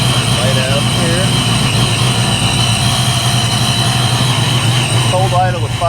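Ford Foxbody 347 V8 with a high-volume oil pump idling from a cold start, a loud steady rumbling idle throughout with a person talking over it.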